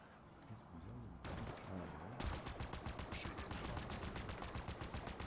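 A shotgun fires in Halo Infinite, and a rapid, evenly spaced string of loud shots begins midway and continues to the end. A voice and softer game sounds come before it.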